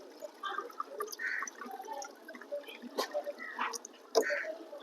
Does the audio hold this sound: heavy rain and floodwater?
no